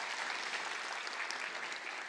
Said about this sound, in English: Maybe you could just give a round of applause for her for watching.